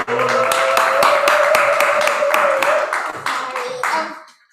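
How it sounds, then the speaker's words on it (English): Warm, energetic audience applause at a tribute event for Black fathers, dense clapping steady and loud across the room before tapering off at the end, with a faint voice underneath. "Give your hands a nice, warm, long, energetic applause for McDonald"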